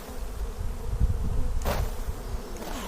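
Honey bees buzz steadily during a hive inspection, a close, continuous drone with a brief sharp brushing or rustling sound partway through.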